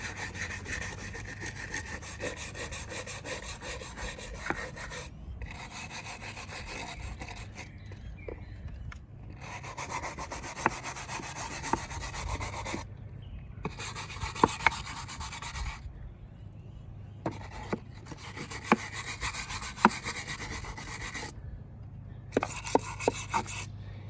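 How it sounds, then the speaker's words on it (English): Scrubbing a wooden nestbox clean of fecal matter, with continuous rasping back-and-forth strokes broken by brief pauses and occasional knocks, close and moderately quiet, without speech. "And then I'm gonna scrub it down a little."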